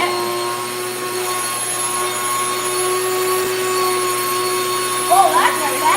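An electric grain mill grinding flour runs as a steady loud whirring drone with a constant tone throughout, and a voice briefly chimes in near the end.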